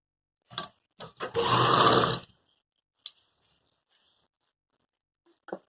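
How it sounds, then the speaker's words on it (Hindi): A sewing machine stitches a readymade-collar suit in one loud burst of about a second, with sharp clicks and taps before and after, no voices. "चलिए पहले सिलाई लगा लेते हैं।"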